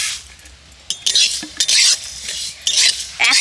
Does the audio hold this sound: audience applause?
no